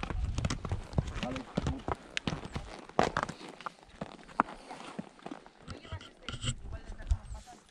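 Two Arabian horses walk a rural trail, their hooves giving soft, irregular clip-clop steps close by, with a rider talking and calling to them over the footfalls.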